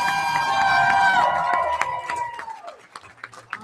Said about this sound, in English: So one more round of applause for all of these talents.